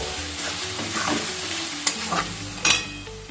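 Poppy seed paste stirred into frying paneer curry in a pan, a steady sizzle with scraping spoon strokes and a couple of sharper clinks near the end, no talking.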